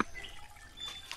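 Water trickles faintly down from higher ground on a rural property planted with coconut palms, a soft thin dribble with a few small drips, quiet throughout.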